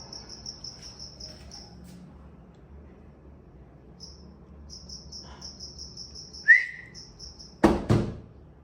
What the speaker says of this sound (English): There's a cricket in my bathroom somewhere.